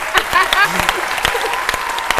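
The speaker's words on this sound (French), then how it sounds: "On applaudit." A studio audience on a French-language midday television show claps in a loose burst, close and lively, with scattered sharp claps and a voice briefly cutting through.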